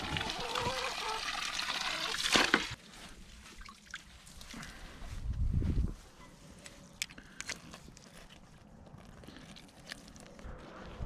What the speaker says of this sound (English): Just put that hose on the last pail.